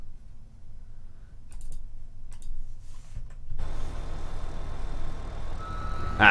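A JCB wheel loader fitted with a universal bucket in Farming Simulator 2015 starts emitting steady, evenly spaced reversing beeps partway through over a low engine rumble, with a few faint clicks before the beeping begins.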